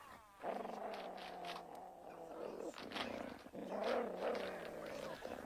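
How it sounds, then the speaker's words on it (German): Wolf growling in a children's radio play, rough drawn-out snarls in several bursts, faint and fairly close. "So ein Knurren, ja, man ahnt es schon, ist weniger freundlich gemeint."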